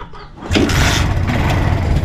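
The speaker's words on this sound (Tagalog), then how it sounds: "Sinimulan na ni Kautol na painitin yung makina ng kanyang motor." A BMW motorcycle engine catches after a brief quiet lead-in and settles into a loud, rough, steady idle as it starts warming up, close by.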